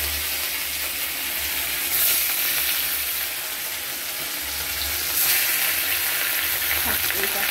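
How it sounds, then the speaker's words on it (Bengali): Fish rubbed with salt and turmeric sizzle in hot oil in a wok, a continuous crackling hiss that swells louder in two bursts as the pieces are moved. "এবার মাছগুলো ভাজবো।"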